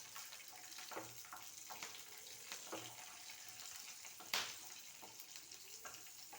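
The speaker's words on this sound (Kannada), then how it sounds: "ನಾವು ಸಣ್ಣ ಉರಿಯಲ್ಲೇ ಇದನ್ನು ಹುರ್ಕೊಂಡು ತಕ್ಕೋಬೇಕು, ಇಲ್ಲಾಂದರೆ ಸೀದ್ಬಿಡುತ್ತೆ" Spinach fries on a low flame for palak chutney, giving a soft, quiet sizzle broken by scattered clicks and scrapes of stirring.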